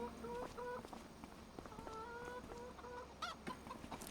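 Chickens cluck in a coop in Alma, Missouri, giving a run of repeated short calls at moderate distance with a sharper, louder squawk near the end, over a low steady background and no talking.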